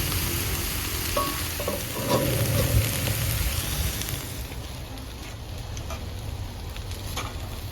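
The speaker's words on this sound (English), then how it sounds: "I just prefer to get my seasoning sauteed before adding the callaloo" Seasoning sautés in a pan ahead of the callaloo, a loud, dense sizzle that runs throughout with occasional stirring scrapes close by.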